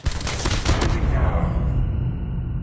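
Sentry gun firing in Call of Duty Mobile, a rapid automatic burst of gunfire that runs steadily through the whole stretch, loud and dense, with game voice callouts mixed in.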